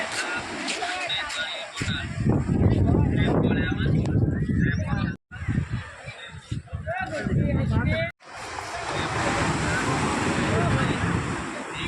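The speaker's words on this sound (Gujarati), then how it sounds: "પાણીનો અવાજ બહુ મસ્ત લાગે છે" Steady crashing surf and rushing water at the shoreline of Porbandar Chowpatty beach, Gujarat, loud and continuous, with wind buffeting the microphone and brief dropouts.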